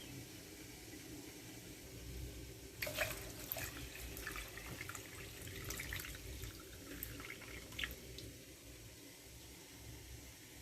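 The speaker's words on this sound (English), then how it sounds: "Now I'm going to pour my hot water." Hot water pours onto rice in a steady, soft splashing stream, faint and close, with brief louder gushes in the middle.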